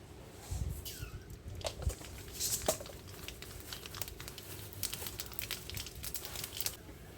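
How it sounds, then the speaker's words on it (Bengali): Mustard seeds tempered in hot mustard oil in a kadai while cooking outdoors, faint scattered crackles and sharp pops at close range over a low background hiss. "এই দেখো সর্ষের তেল দিয়ে দিলাম, এই সর্ষে ফোড়ন দিচ্ছি,"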